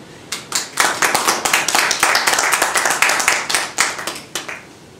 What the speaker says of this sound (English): give a very warm FCCJ afternoon applause to Dr. Jan Oberg